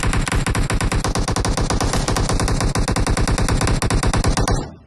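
Sustained automatic gunfire in PUBG, a rapid, loud, evenly spaced burst of shots running nearly five seconds before cutting off abruptly.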